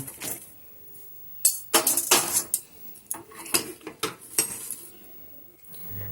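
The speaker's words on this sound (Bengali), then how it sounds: "এবার আমি একটা অন্য প্লেটের মধ্যে মশলাটাকে তুলে ঠান্ডা করতে দেব" Dry-fried spice mix for cauliflower singara being scraped out of a pan onto a plate, with sharp metal clinks and scrapes of a spoon against cookware, close and irregular, no talking.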